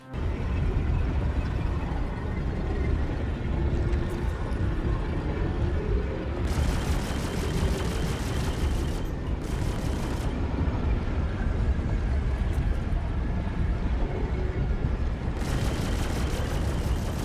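A Vanduul Stinger ship in Star Citizen fires volleys of weapons as harsh, broadband bursts lasting a couple of seconds each, followed by a ship exploding, all over a constant engine drone.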